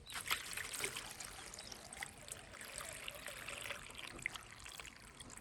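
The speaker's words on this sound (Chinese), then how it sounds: "加水。" Water poured into a cooking pot holding leftover vegetables and orange peel, a soft steady trickling and splashing that sounds close and runs alone throughout.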